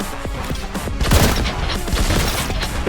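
A shotgun bolter fires in Warhammer 40K Boltgun, a rapid string of loud, punchy blasts with crashing impacts layered over one another in a busy combat mix.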